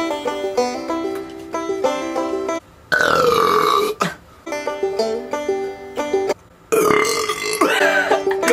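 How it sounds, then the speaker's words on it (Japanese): A person burps after chugging cola and inhaling helium gas, producing several long, loud, oddly pitched croaking belches separated by short pauses. "これを一気飲みしてゲップが出る前にこれを吸ってどんな音になるのか"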